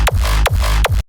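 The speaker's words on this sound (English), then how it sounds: "focused on the first mid intro with the reverse bass kick" Three reversed bass kicks from two edited samples in a hardstyle remix intro, each swelling up and snapping off into a deep, booming low end with a bright, noisy top, evenly spaced and loud with no voices.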